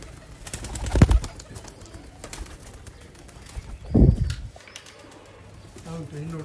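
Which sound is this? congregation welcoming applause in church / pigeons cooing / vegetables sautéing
pigeons cooing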